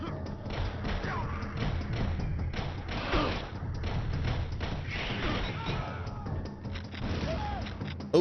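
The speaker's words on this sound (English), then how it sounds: "exploding shells." Exploding shells in the Turok game on Switch, a steady barrage of muffled thuds and blasts with gunfire that runs the whole stretch, while a voice speaks over it.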